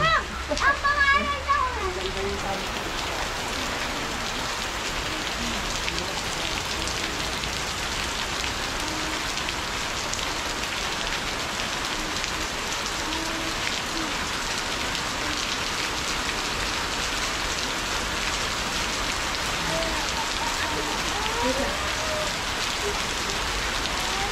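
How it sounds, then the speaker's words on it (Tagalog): Heavy rain pours steadily on surfaces nearby in a park in Baguio, a dense continuous patter, with people talking faintly beneath it. "Malakas po yung rain."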